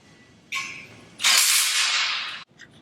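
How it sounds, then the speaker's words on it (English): Bolts on a 3x3 half rack being tightened between the K-brace and base with an impact or wrench, a short mechanical burst followed by a longer loud, hissing whir that cuts off abruptly, then a few faint clicks. "Go ahead and take your impact or your wrench and tighten them."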